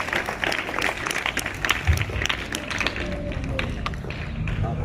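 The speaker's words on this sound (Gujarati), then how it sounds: "જોરદાર તાળીઓથી વધાવી લઈશું." Audience clapping at a primary school Independence Day event, a steady patter of many hands throughout, fairly close and lively, with faint voices mixed in.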